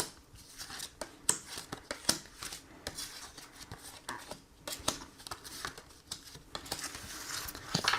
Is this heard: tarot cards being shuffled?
yes